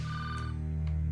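A telephone ringing after 911 is dialed, a short electronic ring tone heard alone over a steady hum.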